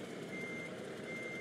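Reversing beeps from a truck backing up a trailer in American Truck Simulator, a steady high electronic tone held over continuous engine rumble for the whole moment, with no talking.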